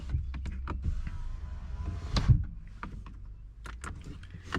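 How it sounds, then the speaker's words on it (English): The small quarter window of a 2014 Porsche 911 Carrera 4S rolls down with a soft electric motor whir inside the car, accompanied by faint clicks and light cabin handling noises, no talk. "this rolls down the little quarter window right here"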